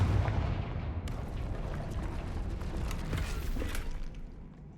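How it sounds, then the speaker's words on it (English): A sustained rumbling blast from the Confringo spell breaking through a barrier in Hogwarts Legacy, a broad roar that holds for several seconds and then fades. "Another barrier. We can blast through it, I'm certain."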